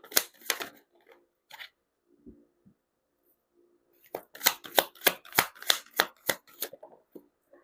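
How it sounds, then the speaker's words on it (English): Tarot cards are shuffled close by, a few scattered riffles followed by a quick burst of crisp, rapid snapping flicks, with near silence in between and no talk. "He saw me shuffle"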